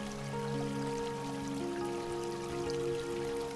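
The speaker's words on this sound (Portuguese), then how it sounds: "esta cachoeira e o riacho que segue o fluxo" A waterfall and stream flow and trickle steadily beneath a soft, sustained musical drone, gentle and continuous throughout.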